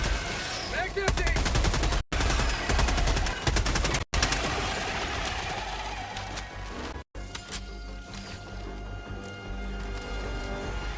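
Rapid automatic gunfire in the video game Helldivers rattles in dense bursts broken by brief silent gaps, followed by quieter game ambience with faint voices underneath.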